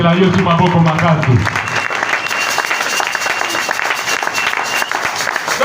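A church congregation at a Sunday service applauds for Jesus, a loud dense burst of clapping that rises after a voice speaking and sustains evenly, close and full.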